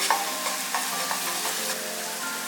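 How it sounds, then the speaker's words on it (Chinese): Seasonings stir-fry in oil in a small hot pan, giving a close, steady sizzle broken by quick, repeated scraping strokes of a utensil. "锅烧热倒一点油，来把配料炒香。"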